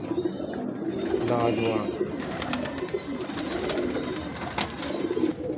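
Teddy pigeons at a breeder's loft coo steadily and close by, with soft wing and bird sounds, while someone talks over them throughout.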